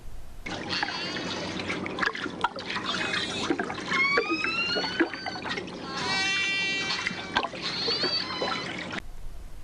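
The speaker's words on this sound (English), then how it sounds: "Now listen to the sounds that orcas make near Iceland." Underwater calls of orca whales near Iceland, a steady stream of gliding whistles, harmonic squeals and buzzy pulses over a trickling, bubbly background, fairly close and continuous for several seconds.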